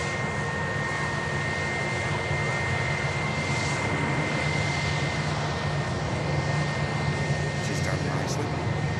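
A passenger airliner, likely the Tui flight, rolls out after landing at a busy airport, its engines giving a steady, moderately loud broadband roar throughout with faint talk underneath.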